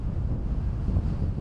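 Wind blowing hard across open farmland in the east of England on a hot, dry day, a constant low buffeting roar battering the microphone, close and steady with no voices.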